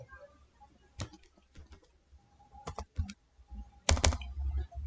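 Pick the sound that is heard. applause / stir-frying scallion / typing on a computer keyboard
typing on a computer keyboard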